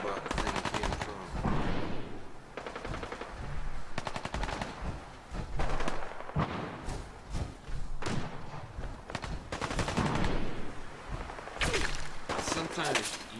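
Rapid automatic gunfire bursts and single shots in a Fallout 4 firefight near Saugus Ironworks, loud and close, repeating in clusters with short pauses between volleys throughout.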